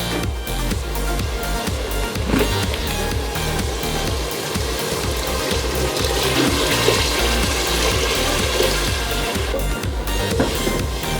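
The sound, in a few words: water being poured into pot of mutton and peas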